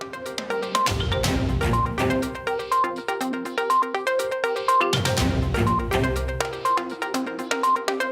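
Mobile phone ringing during a live broadcast break: a loud, looping melodic ringtone plays continuously and close, with no talk over it.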